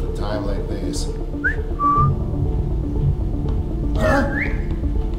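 Short whistled notes sound in Assassin's Creed Chronicles Russia, two brief rising whistles followed by a longer one later, over a steady busy game music and ambience bed.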